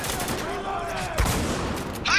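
Rapid shotgun blasts and surrounding gunfire in the video game Spec Ops: The Line, loud and continuous, with a heavier blast partway through and voices talking over the shooting.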